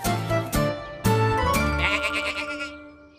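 Cartoon sheep bleat on a farm, several loud wavering bleats in quick succession followed by a jingly musical tail, with no talking.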